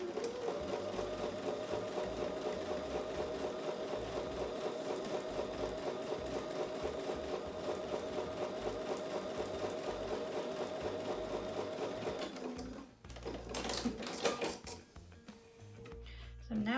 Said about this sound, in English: I'm going to take that to the sewing machine and I'm going to sew a 1/4 inch seam on both sides